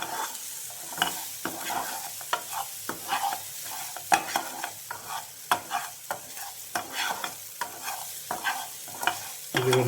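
Sliced onions sizzle in a pan while a spoon stirs them, scraping and clacking at an irregular rhythm over a constant close frying hiss, with no voices.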